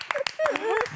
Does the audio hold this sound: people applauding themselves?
yes